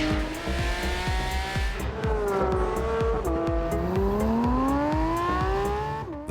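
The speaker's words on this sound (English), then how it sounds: "The car sounds superbly, especially from the inside." Naturally aspirated 2022 Porsche 911 GT3 engine revving loudly and continuously, with a rising and falling howl and quick shifts between pitches as it climbs through the revs, sustained for the whole stretch.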